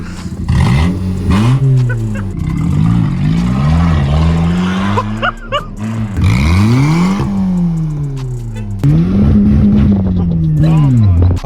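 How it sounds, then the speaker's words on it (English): A car engine with its catalytic converter sawed off, mounted on a homemade car raft on a lake, revs loudly again and again in rising and falling surges with a raw, rumbling exhaust. "We sawed off the catalytic converter. This is to make the car louder"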